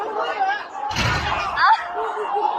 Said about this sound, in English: Break the damn door.